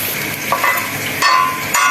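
White cumin seeds tempering in hot oil, a bright crackling sizzle with a few sharper pops and metallic clinks over steady hiss, close and fairly loud.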